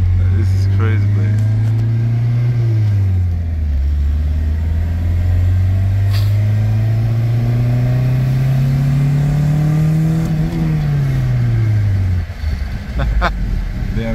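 A Honda Civic EK with a D16Z6 VTEC engine, heard from inside while driving: a loud, continuous engine drone that rises and falls as the revs change, with someone talking over it.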